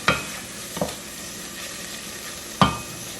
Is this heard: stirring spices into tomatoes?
yes